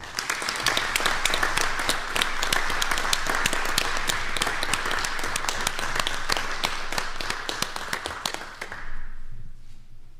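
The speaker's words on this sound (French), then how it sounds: "On peut l'applaudir." Sustained applause from an audience at a municipal council session in Farnham, Quebec, dense rapid clapping filling the room for about nine seconds before stopping abruptly, a short trailing patter at the end.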